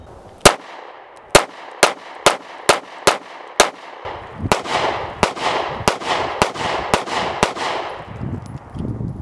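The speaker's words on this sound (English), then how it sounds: "All right, shooting them both." Two Ruger LC9s 9mm pistols fired in turn outdoors, about fifteen sharp, loud shots at a steady pace, each one cracking and then echoing off briefly, with no talking.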